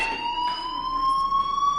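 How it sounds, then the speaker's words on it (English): A steady electronic fire alarm in the video game Life is Strange Remastered, a continuous high-pitched, slightly rising tone sounding alone and fairly loud. "Hey, do you hear that fire alarm?"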